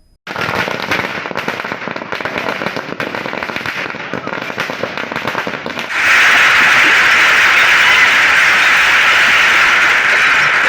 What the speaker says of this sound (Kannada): ಗುಡಿಬಂಡೆ ತಾಲೂಕಿನ ಜೆಡಿಎಸ್ ಮತ್ತು ಬಿಜೆಪಿ ಪಕ್ಷದ ಮುಖಂಡರು ಪಟಾಕಿ ಸಿಡಿಸಿ ಸಿಹಿ ಹಂಚಿ ಸಂಭ್ರಮಿಸಿದರು